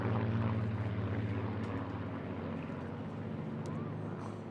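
A Supermarine Spitfire flies over the Eastbourne International Airshow in 2024, its propeller engine giving a steady, throbbing drone that holds evenly throughout and seems to come from some distance overhead.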